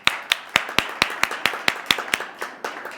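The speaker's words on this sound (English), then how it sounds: "Everyone join me in a round of applause to welcome to stage Ann Washburn." Sparse applause from a small audience greeting a body language expert as she comes on stage, about a dozen distinct, fairly evenly spaced claps at close range over a few seconds, with no voices.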